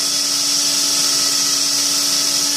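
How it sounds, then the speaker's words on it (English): A power sander whirs steadily against the blade of a bushcraft knife kit, a close, even high-pitched buzz with a constant tone and no pauses. "you're going to take your sander and you're going to line this thing up"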